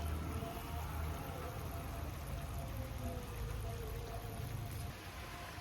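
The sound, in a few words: rain falling outdoors in a garden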